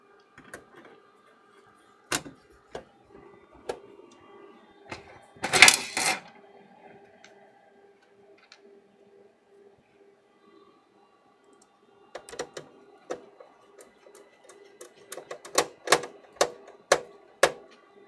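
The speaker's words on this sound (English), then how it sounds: "Put a few screws back in." A screwdriver driving screws back into an electronic lab instrument, a Keithley 182-M voltmeter or Fluke 5720A calibrator, heard as close sparse clicks and ticks with a metallic clatter midway, then a quick run of sharp clicks near the end.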